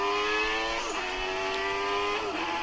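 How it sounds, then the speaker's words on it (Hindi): A Formula 1 car's engine holds a steady, loud, high whine in the driving game Indian Auto Simulator, with two brief pitch dips like gear shifts, and no voices over it. "फॉर्मूला 1 की गाड़ी अभी रेस करेगी सबके साथ।"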